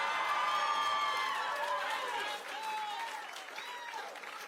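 Large crowd at a political victory rally applauding and cheering loudly, dense clapping with raised voices throughout, easing slightly toward the end.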